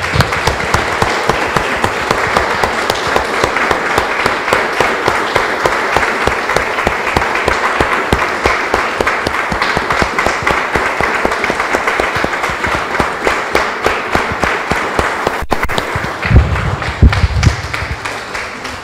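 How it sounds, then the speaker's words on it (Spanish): Church congregation applauding after a prayer, long dense sustained clapping from many people filling the room, loud and steady throughout with a few louder claps near the end. "Le damos un aplauso, hermano"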